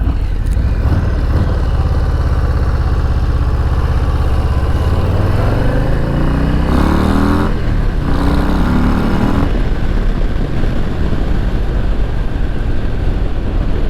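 A 2022 Harley-Davidson Low Rider S accelerates on the road, its engine revving up through the gears with rising pitch, shifting, then settling into a loud, steady ride rumble near the rider.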